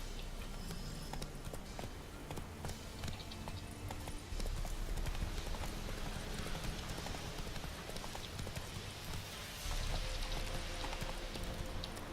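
Hoofbeats from Roach, the horse in The Witcher 3, clip-clop in a steady galloping rhythm across the whole stretch, fairly quiet and mixed with a faint rain-like wash of game ambience.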